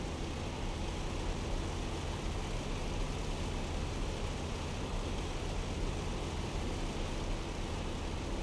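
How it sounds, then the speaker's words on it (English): A P-51D fighter's engine in the IL-2 Sturmovik flight game drones as a loud, steady, broadband roar with a rough rattling edge, continuous and close throughout with no voices. "My engine is about to quit. It's starting to rattle."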